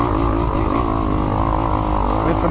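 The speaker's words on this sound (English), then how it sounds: "Riding the 2021 KX 250X." Engine of a 2021 Kawasaki KX 250X dirt bike under way, a loud, steady buzzing drone held close and continuous with no break, riding up choppy ground.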